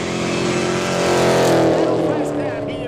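A red Holden VT car drives past at a street event, its engine note swelling loud up close and fading away, with voices talking over it.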